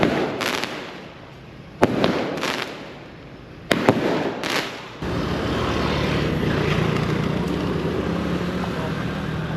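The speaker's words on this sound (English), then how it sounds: "And now we got the fireworks" Fireworks go off outdoors at an evening ceremony, a few sharp cracking bursts followed by a sustained roaring crackle, fairly distant and loud over a steady background rumble.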